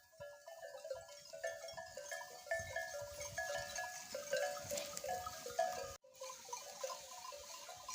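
A flock of sheep in freezing winter weather bleats faintly from several directions, with a few short calls overlapping against a quiet outdoor background.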